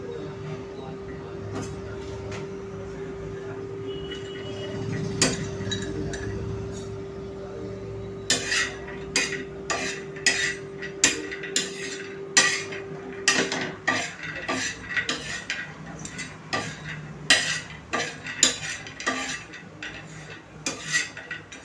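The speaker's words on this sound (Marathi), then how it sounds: "आता आपण खोबरं टाकूया आणि खोबरं पण आपल्याला भाजून घ्यायचं आहे" Grated coconut is roasted in a pan, with a soft background hum and then repeated rhythmic scraping and clinking of a utensil stirring against the metal, close and fairly loud.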